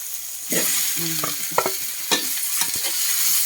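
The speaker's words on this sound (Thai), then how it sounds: "ผัดลูกชิ้นให้หลานชาย" Meatballs stir-fry in a hot pan, a loud continuous sizzle broken by several scraping stirs of the spatula, close up and without voices.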